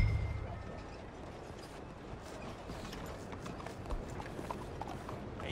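Horse hooves clip-clop in Red Dead Redemption 2, a steady busy trot heard close, mixed with faint rattling of tack and gear and no voices.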